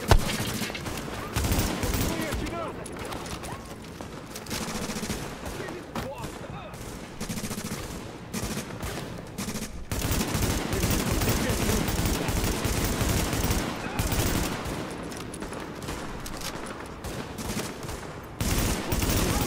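Dense, continuous gunfire from The Division's online co-op mode: sustained automatic bursts and overlapping shots fill the whole stretch at steady loudness, with players talking over the shooting.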